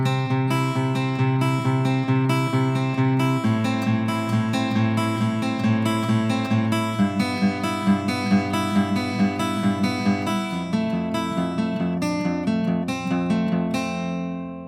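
Acoustic guitar picking the arpeggiated verse pattern of a song, steady ringing notes across the strings with chord changes every few seconds, played alone at close range.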